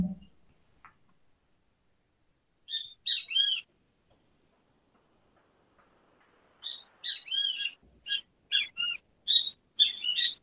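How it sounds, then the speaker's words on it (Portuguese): Small birds chirp in short bursts of high, bright tweets, with a quiet gap before a livelier cluster of calls near the end. "barulhinho bom de passarinho"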